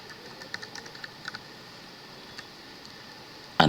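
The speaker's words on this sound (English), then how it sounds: "Okay, then I'm going to type here" Light keystrokes tapped on a computer keyboard while entering text in a Scratch coding project, a scattering of soft clicks at close range, ending in a sudden louder burst.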